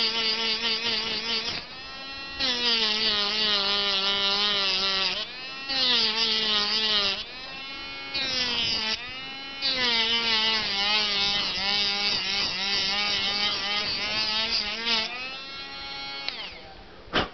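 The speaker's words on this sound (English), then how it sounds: "So I'm going to go ahead and give this one a good shot with the Dremel." A Dremel rotary tool whines at high speed while cleaning the dirty contacts of a Nintendo game cartridge, a loud, close, buzzing tone that dips and rises in pitch as it presses on, with brief pauses.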